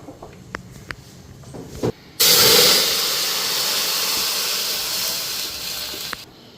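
A pressure cooker in a home kitchen lets off a loud, steady rush of hissing steam for about four seconds after a few light clicks, then cuts off abruptly.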